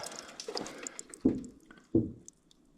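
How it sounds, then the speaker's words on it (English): Water dribbles from a leaking coolant bypass elbow on a GM 3800 3.8-liter engine, with faint trickling followed by two distinct, close splats spaced well apart. "I'm gonna start pouring coolant in the, well, not coolant, just water for now. And you'll see that start running out."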